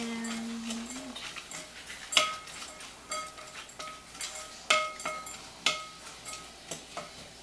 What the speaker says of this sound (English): now I'm going to do 2/3 cup of cranberries. Kind of mix that around.